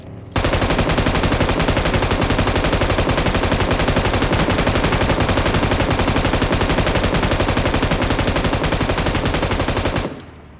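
Loud, rapid automatic video game gunfire, shooting at a truck, rattles on without a break for about ten seconds, then cuts off abruptly.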